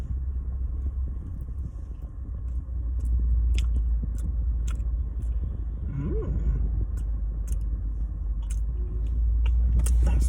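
A filled Krispy Kreme doughnut is bitten and chewed up close, soft moist chewing sounds over a low steady rumble of a car interior.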